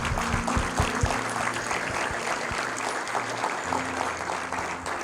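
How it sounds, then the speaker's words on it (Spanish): Church congregation applauding, a steady crowded wash of clapping with some sharper individual claps up front, carrying on over a sustained low musical hum for the whole stretch. "Vamos a darle un fuerte aplauso al Señor."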